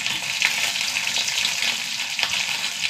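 Dried red chillies crackle and sizzle in hot ghee with mustard seeds and shallots, a steady close frying hiss with a few sharper pops and no voices.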